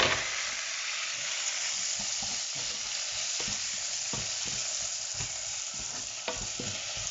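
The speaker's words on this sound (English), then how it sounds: "I'm just going to add my tomatoes" Tomatoes frying in a hot pan of omena, a dense continuous sizzle and hiss with occasional stirring scrapes and clicks, close and alone with no talk.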